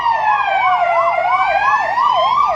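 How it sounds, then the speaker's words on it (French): An ambulance siren wails loud and close in a steady, rapid up-and-down yelp as the emergency vehicle passes on a street, alone with no voices over it. "Oh, l'ambulance, Corona."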